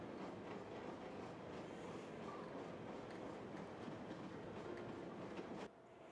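Train running steadily in the Rail Route railway video game, a continuous rolling rumble with faint rhythmic clatter of wheels, loud and close, cutting off abruptly near the end.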